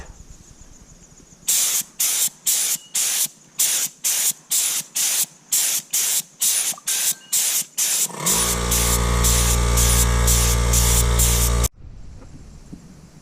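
An air sprayer lays a light coat of paint on a school bus, starting as a run of short, evenly spaced hissing bursts. It then shifts to one long, continuous loud spray with a compressor drone beneath before cutting off.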